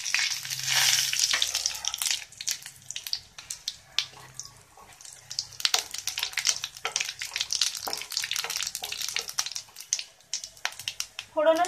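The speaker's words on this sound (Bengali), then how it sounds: "তেলটা গরম হয়ে গেছে, এর মধ্যে আমি এই যে তেজপাতা, দুটো শুকনো মরিচ এবং জিরেটা ফোড়ন দিয়ে দেব।" Bay leaf, two dried red chillies and cumin hit hot oil for an alur dom tempering, a loud close crackle and sputtering fry with dense irregular pops throughout, and a voice talking intermittently over it.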